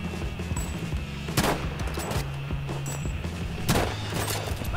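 Gunfire in Battlefield V, a few sharp loud shots standing out over a steady bed of battle noise and engine rumble.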